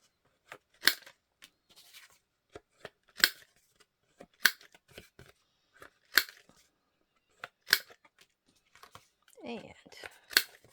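Scissors trimming paper on a mixed media board, crisp snips repeating about once a second, close and clear with quieter handling clicks between cuts and a brief rustle of paper near the end.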